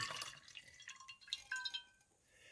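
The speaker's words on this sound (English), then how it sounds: "I'm just going to pour the coffee." Coffee from a Mr. Coffee 12-cup maker's pot is poured onto a white plate in a sink, giving a faint trickle with scattered soft drips and splashes, close and alone.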